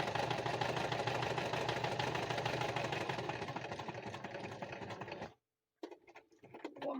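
A sewing machine stitching through a junk journal cover runs fast and steady for about five seconds, then stops abruptly, followed by a few brief softer mechanical bursts.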